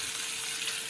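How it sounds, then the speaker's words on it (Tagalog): Milkfish (bangus) frying in hot oil for escabeche gives a steady, dense sizzle, close and continuous, with no voices. "Prito muna natin yung bangus bago natin i-escabeche."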